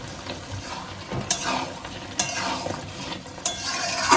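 A spoon stirs bottle gourd and shrimp curry in a pan, with slit green chillies and chopped coriander mixed in. Repeated scraping strokes sound close against a soft sizzle, with no talking.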